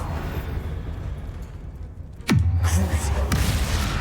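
A Confringo blasting spell from Hogwarts Legacy bursts suddenly and loudly about midway, sweeping down into a deep rumble, then a second, softer hit lands a second later over steady game ambience.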